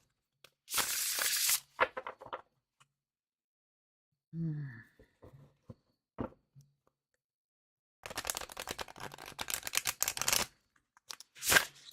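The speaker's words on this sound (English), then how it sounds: "I wasn't watching my shuffle." Tarot cards are shuffled by hand in bursts of crisp riffling and flicking, with quiet gaps between bursts and a brief breath or voice sound in the middle.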